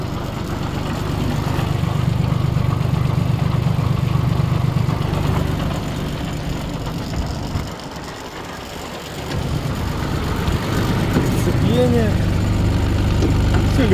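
Mitsubishi MT221 compact tractor engine running steadily with the gearbox engaged in gear, a loud continuous mid-low drone that dips briefly midway before resuming, with a faint squeak near the end.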